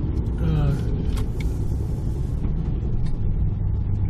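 A Hudson Hornet sedan driving along a road, heard from inside the cabin: a steady, loud engine and road rumble with tire noise, continuous throughout, while someone speaks briefly over it.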